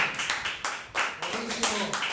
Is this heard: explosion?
no